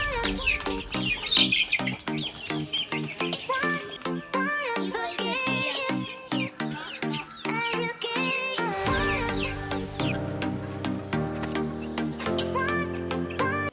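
Laying hens and a rooster eating feed from separate containers cluck repeatedly in short, busy calls at close range, with a few sharper squawks among them.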